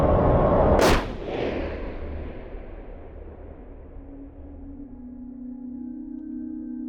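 A single loud, sharp gunshot fired at a book cracks near the start, then decays into a long ringing tail and low ambient rumble, with a faint steady tone emerging afterward.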